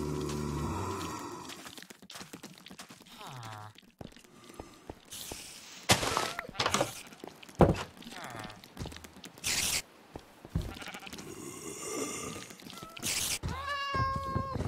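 Cats meow repeatedly in a Cobblemon Minecraft game, short mews scattered over clicks, thuds and other game sounds, with a few louder bursts along the way.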